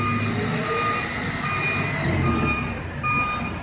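Trailer truck reversing during loading work, its backup alarm sounding repeated evenly spaced high beeps over a low idling engine rumble, close and fairly loud.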